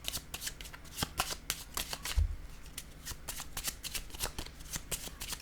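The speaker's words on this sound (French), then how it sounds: "Je vais piger une carte." Tarot-style cards riffle and slide against each other in a steady, close shuffle before one is drawn, a continuous papery patter with small snaps throughout.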